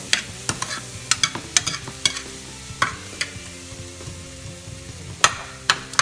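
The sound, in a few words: stirring onions and meat frying in a pan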